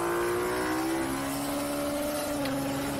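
A racing engine at the Adria circuit during a race, loud and close, holding a strong, steady howl whose pitch sags slightly and then climbs again, with no voices.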